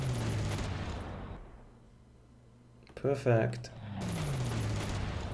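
Brief burst of rapid gunfire in a World War II strategy game as units attack a Spitfire, a short clattering volley between quieter stretches, followed by someone speaking.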